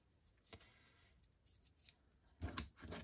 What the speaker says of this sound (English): I shouldn't be using these good scissors.